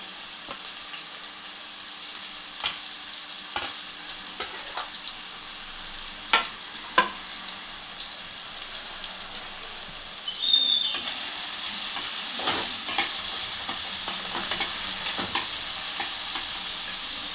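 Onions sizzle in hot oil in a pan for a Telangana-style korameenu fish curry, a steady close frying hiss with occasional stirring clacks, growing louder and denser partway through.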